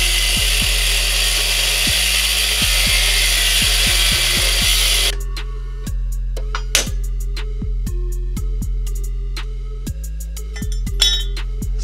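A power drill bores holes in a metal part for a mini bike with a Predator 420 engine, whining loudly for about five seconds before stopping, followed by scattered metallic clinks and tool handling.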